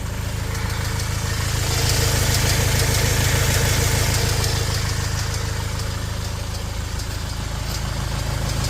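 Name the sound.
clicking noise from Fiat Ducato 180 Multijet idling engine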